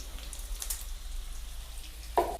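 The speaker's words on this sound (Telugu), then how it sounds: "కొన్ని తాలింపు గింజలు ఇస్తానా" Mustard-type tempering seeds crackle and pop faintly in hot oil in a pan, sparse light patter with a brief sharper burst near the end, no voices.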